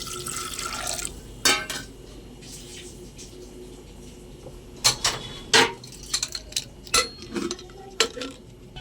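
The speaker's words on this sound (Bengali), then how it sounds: "অল্প পরিমাণে এবার একটু জল দিয়ে দেবো।" Water splashes and trickles into a pressure cooker of chickpeas with turmeric and salt, with several distinct pours and drips close by and a few clinks of utensils, with no talking.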